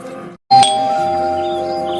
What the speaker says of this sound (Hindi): दरवाजे की घंटी बज रही है